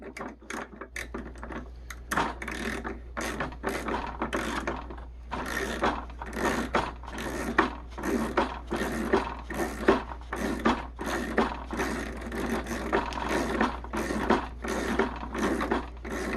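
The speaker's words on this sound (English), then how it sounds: "The nylon lock nut is going on there just they should." A nylon lock nut threads onto the prop shaft of an E-flite Extra 330 SC 3D 1.3m RC plane, making a long run of close, rapid ratcheting clicks in uneven bursts.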